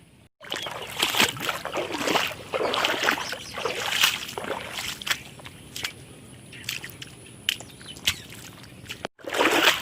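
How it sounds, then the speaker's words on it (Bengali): Water sloshes and splashes in an irregular rhythm as mud is washed off feet in a rural village after rain, close up with small trickles between splashes. "পায়ের কাদাগুলো ধুয়ে নিচ্ছি।"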